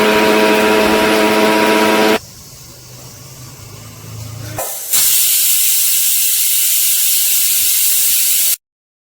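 A pressure cooker cooking carrots in milk lets off loud, sharp steam whistles, a harsh hiss that cuts out, a quieter stretch, then another sustained piercing blast that stops abruptly.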